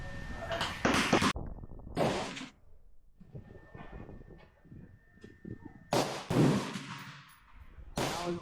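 Gunfire at the Koko Head shooting range: sharp, loud shots in scattered clusters, some close together, separated by quieter stretches of range noise.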